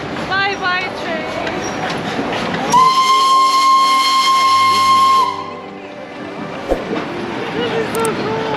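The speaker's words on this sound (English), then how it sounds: "That's the train over there." A Darjeeling train whistle sounds one long steady blast for a few seconds over rumbling rail noise, with people talking before and after.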